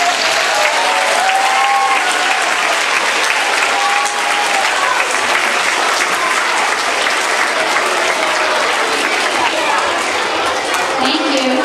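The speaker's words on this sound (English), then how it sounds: "Can we give these folks a round of applause as well?" A school audience gives student leaders a sustained, loud round of applause, with dense clapping filling a hall throughout and a few voices mixed in.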